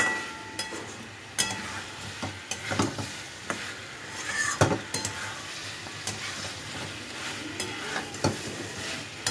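Spices frying and being stirred in a pan, a steady sizzle under repeated scraping strokes and occasional clinks of a utensil, close and moderately loud, with no talking.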